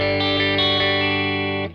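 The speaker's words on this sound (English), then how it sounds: "Let's turn off the reverb" A sustained electric guitar chord through the reverb of a Carr Bel-Ray 1x12 combo amplifier rings out with a washy, reverberant tail, holding steady before fading abruptly near the end.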